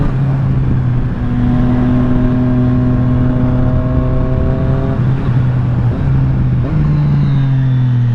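A 2020 Triumph Street Triple RS motorcycle engine revs steadily under throttle, its tone stepping up through several rising pitches before settling, close and loud with no voices.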